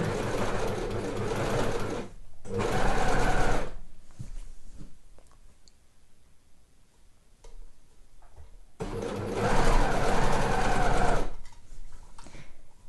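A domestic sewing machine stitches the underarm and side seam of a sweatshirt, running in three close, steady bursts with quiet handling pauses between them.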